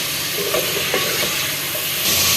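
Goat or beef meat being browned (bhuna) in a pan for a palak chicken style home recipe, a steady close sizzle and frying hiss with occasional stirring scrapes, no voices.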